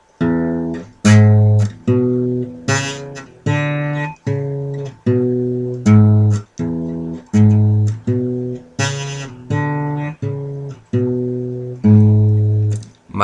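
Old acoustic guitar playing a slow walking blues riff, a steady sequence of about a dozen plucked bass-note patterns with ringing harmonics, played alone and close with no talking.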